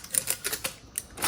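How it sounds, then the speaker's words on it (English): Tape is peeled off a sublimated glass jar in a quick run of faint, close crackling snaps lasting just over a second. "Let's just take the rest of the tape off."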